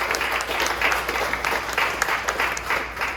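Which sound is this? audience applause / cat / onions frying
audience applause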